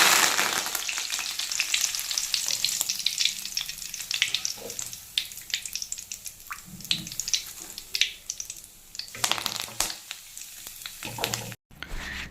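Cashew nuts frying in oil, a steady dense sizzle running throughout with occasional stirring clinks, close and continuous with a brief dropout near the end.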